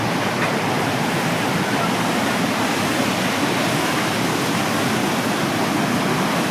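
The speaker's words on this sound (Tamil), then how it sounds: "அந்த சவுண்டு தான் மேட்ரு அந்த வாட்டர் ஃபால்ஸ் அதுலேருந்து வருங்க" A Himalayan waterfall near Manali pours out a steady, dense rushing roar, constant and loud with no breaks.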